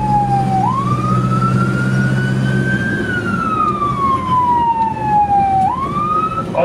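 A loud emergency ambulance siren wails up and down close by in traffic, with a slow rising and falling tone over a steady low engine rumble.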